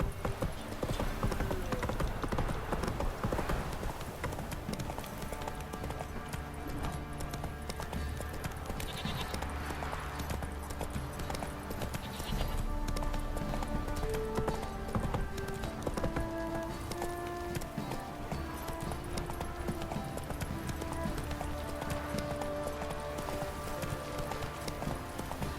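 Roach the horse galloping in The Witcher 3, hooves clip-clopping in a steady rapid rhythm, close and loud, with no talk over it.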